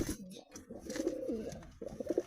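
Pigeons cooing in a loft where a seller shows hens and males, with several overlapping low, throaty coos rolling in repeated bursts, close and fairly loud.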